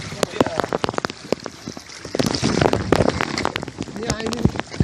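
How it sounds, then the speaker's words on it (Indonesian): Rain falls steadily during river rafting on the Pesangan River, a dense crackling patter with sharp drop hits close by, while people call out to each other. "Hujan datang."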